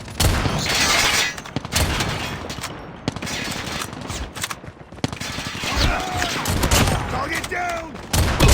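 Marksman rifle fire in a shooter video game, with loud, dense bursts of gunfire and sharp impacts throughout, plus game sounds and voice callouts mixed in.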